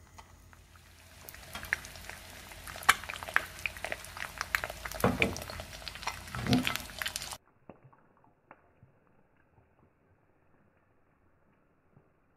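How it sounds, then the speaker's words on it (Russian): Food sizzles and crackles in a hot cast-iron pan for several seconds with popping bursts, then the sound cuts to near silence with a few faint ticks. "Начинает потихоньку жариться."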